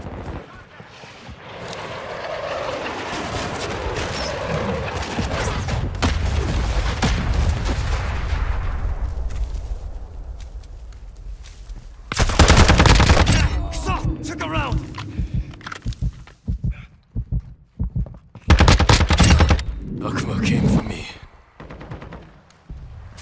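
Artillery fire mission strike in Call of Duty Modern Warfare II: loud bursts of explosive impacts and gunfire crack in clustered volleys, with rumbling between hits and voices talking underneath.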